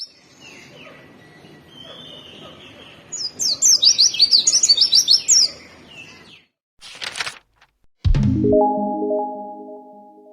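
A white-eye (burung kacamata) sings in rapid high twittering phrases, with other bird calls around it, a brief burst of noise, and then a lower tonal sound near the end.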